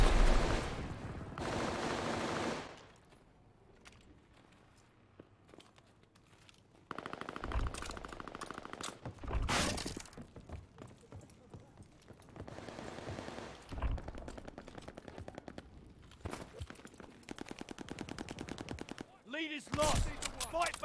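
Rapid bursts of automatic gunfire in a first-person shooter video game, loud and repeated in clusters separated by short lulls, mixed with other in-game effects.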